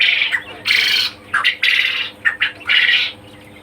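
Farm-kept quail give loud, harsh squawking calls in several close bursts separated by short gaps, the cries ringing clearly with no voices over them.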